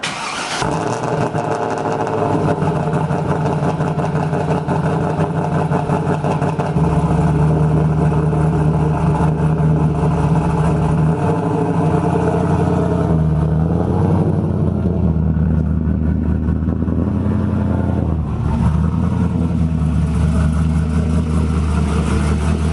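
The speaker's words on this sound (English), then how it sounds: "So here's the first cold start of the season," A Big Cam WS6 car engine cranks and catches on its first cold start of the season, then settles into a loud, steady, close idle with a rough, lumpy tone.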